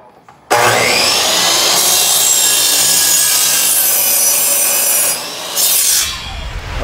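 Wooden side pieces for cornhole boards being sawn, a loud, steady rasping saw stroke that runs continuously for several seconds before briefly dropping and resuming near the end.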